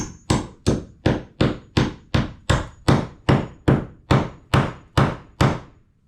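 A hammer drives a nail with about fifteen loud, evenly spaced blows, each sharp crack ringing briefly before the next, in a steady rhythm close by.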